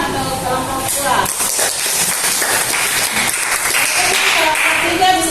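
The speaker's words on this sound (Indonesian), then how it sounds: "Tepuk tangan untuk kelompok 2" A high-school classroom gives a short round of clapping for group 2 after its discussion presentation, with students' voices mixed through the steady patter for about five seconds.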